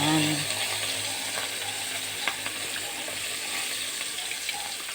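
Marinated bangus (milkfish) fries in a pan with a steady, dense sizzle and crackle that holds at an even level throughout, close up, with a few small clinks and no talking.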